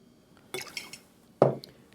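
Lemon juice poured into a whisky-based New Brunswick cocktail: a soft trickle, then a brief, sharper liquid splash against glass, close and fairly quiet.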